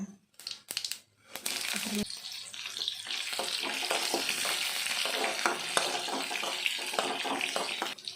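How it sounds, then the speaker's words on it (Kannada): Mustard seeds and curry leaves fry in hot oil for a South Indian banana flower stir-fry, giving a steady close sizzle with crackling pops after a brief quiet start, and no talk over it. "ಆಮೇಲೆ ಸಾಸಿವೆ ಹಾಕಬೇಕು ಕರ್ಬೇವಿನ ಸೊಪ್ಪು ಹಾಕಬೇಕು"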